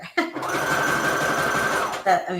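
Sewing machine stitching a zigzag through paper scraps, a loud steady whirring run of close needle strokes lasting about two seconds, with brief voice sounds just before and after.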